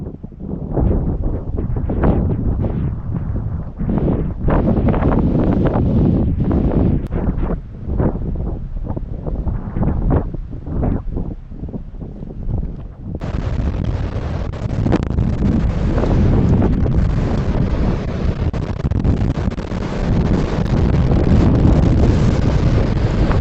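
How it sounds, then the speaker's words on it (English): Strong windstorm wind roars and buffets the microphone in loud, sustained gusts at a campsite, turning harsher and steadier partway through, with no voices. "a severe windstorm swept through the region"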